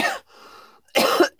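Loud, close coughs: one harsh cough, a brief pause, then a stronger cough and a short final burst.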